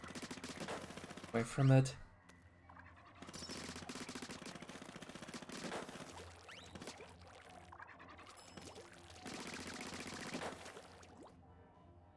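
Ink weapon fire in Splatoon 3 Salmon Run, rapid bursts of sputtering, splashy shots in several clusters, moderately loud, with a voice talking in between.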